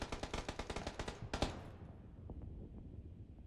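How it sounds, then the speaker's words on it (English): Gunfire in a battle royale video game: a rapid burst of automatic shots rattles off in an even rhythm at moderate distance, then a sharper crack follows. The shots fade into scattered, fainter reports, with no talking. "Alright, they're shooting."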